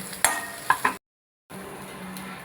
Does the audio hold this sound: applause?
no